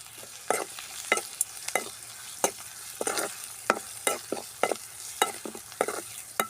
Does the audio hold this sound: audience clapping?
no